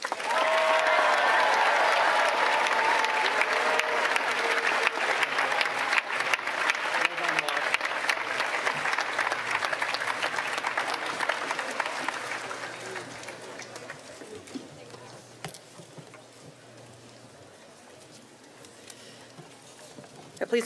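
Sustained applause from a large crowd at a 2023 high school graduation ceremony, loud and dense at first, then thinning and fading over the final seconds.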